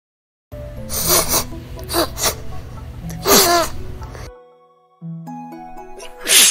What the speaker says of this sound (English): I heard you coughing and sneezing.